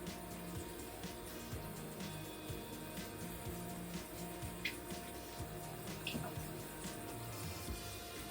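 Water runs steadily from a shower while a shaved head is washed with shower gel, a continuous splashing hiss with occasional faint knocks from handling close by.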